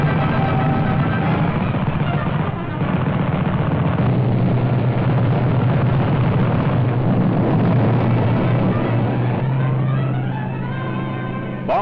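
A flying bomb is blown apart in midair by an interceptor aircraft, a continuous loud roaring rumble of blast and engine noise holding steady for several seconds in a 1944 wartime newsreel.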